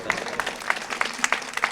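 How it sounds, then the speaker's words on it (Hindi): Brief burst of clapping from a mushaira audience, scattered loud claps rising over a crowd murmur for under two seconds. "पीछे से लेकर आगे तक एक मरतबा ज़ोरदार तालियां बजा दें"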